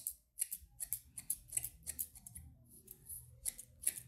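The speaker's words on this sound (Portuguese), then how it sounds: "você vem com a tesoura dentada em cima" Thinning scissors cut straightened hair in quick, crisp snips, a steady run of close metallic clicks with slight pauses, and no voice over them.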